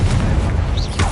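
A Confringo blasting spell exploding in a video game, one short heavy boom with a deep rumbling body and a brief whooshing tail, loud and close.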